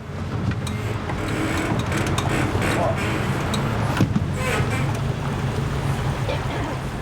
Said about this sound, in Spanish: Las lanchas a motor se consideran asunto de hombres.